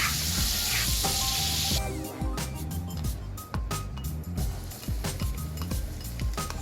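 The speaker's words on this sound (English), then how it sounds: "I'm gonna stir fry it." Chopped garlic sizzles and spits in a hot pan while being stir-fried for garlic butter spaghetti, a loud hiss at first that settles into crackling with occasional clinks of a utensil against the pan.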